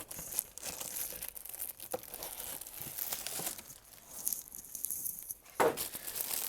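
A new air filter for a 2007-2021 Toyota Tundra is pulled from its plastic packaging, giving close, irregular crinkles, rustles and tearing bursts, with a sharp crackle near the end.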